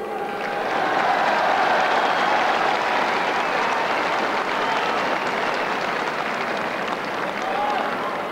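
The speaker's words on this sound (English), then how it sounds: "both teams, Cork and Galway, really deserve a tremendous round of applause here today" A stadium crowd at the 1990 All-Ireland Hurling Final applauds the Cork and Galway teams, a vast, continuous roar of clapping and cheering that stays loud and even, with a voice briefly audible over it.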